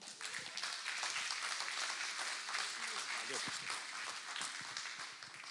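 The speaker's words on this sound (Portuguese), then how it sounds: "Receba com honra e aplauso George Dutra" Applause from a church congregation at an evening service, a steady wash of clapping lasting several seconds at moderate distance, with no voices over it.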